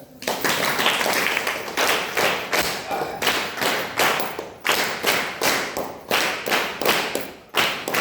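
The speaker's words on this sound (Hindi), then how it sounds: "उनके लिए एक जोरदार ताली।" A gathering in a village school in Uttar Pradesh gives loud applause, roughly a dozen strong rhythmic waves of many hands clapping together. Faint voices sit underneath.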